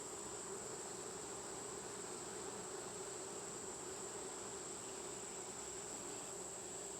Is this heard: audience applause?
no